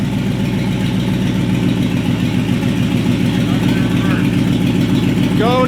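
Steady idle of a new truck engine, a close, even low-pitched rumble with a regular pulse that holds unchanged for several seconds, with faint voices in the background.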